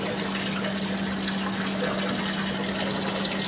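A 2,000 liter power pump drives water through an aquaponics siphon system in an Abu Dhabi installation, giving a steady, close hiss of flowing water over a constant low pump hum.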